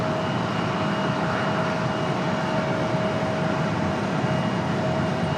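An American Airlines jet in retrojet livery gives a steady, moderately loud engine roar with a sustained tonal whine running through it, unbroken for the whole stretch.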